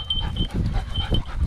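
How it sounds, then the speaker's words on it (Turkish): A hunting dog pants rapidly and heavily up close during a partridge and hare hunt, with quick rhythmic breaths and some rustling movement. "Çok sert ya bu köpek."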